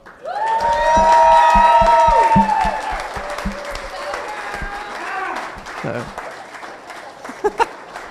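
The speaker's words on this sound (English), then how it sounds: "can we just get one more round of applause for my beautiful bride?" Wedding guests at a reception clap and cheer for the bride in a loud burst with whoops, then the applause tapers off as voices carry on over it.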